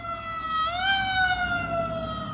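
Short burst of an ambulance siren: a steady two-tone wail that shifts pitch once, fairly faint and alone, with no voices.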